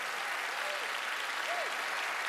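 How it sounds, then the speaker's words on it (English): A TV studio audience claps for a magic show assistant, a steady broad wash of applause held at even loudness throughout, with no speech over it. "Give Teller a big round of applause."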